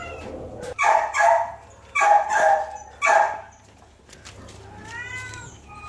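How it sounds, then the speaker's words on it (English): A cat at the Texarkana animal shelter meows three times in quick succession, close and fairly loud, then gives a few fainter, higher chirping calls. "look at that precious kitty cat"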